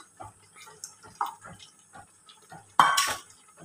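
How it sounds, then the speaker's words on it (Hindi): Flour batter is poured into sarson ka saag cooking on a stove, with soft clinks and taps of a utensil against the pot and then a short burst of splashing pour near the end, close and clear. "तो अब मैं ये जो मैंने आटे का घोल बना के आपके सामने रखा था इसको डालती हूँ।"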